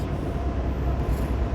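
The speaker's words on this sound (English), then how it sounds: "Good old Canadian Pacific Railroad." A Canadian Pacific Railroad train passes outdoors, a loud, close, continuous rumble of wheels and cars rolling over the track with no break.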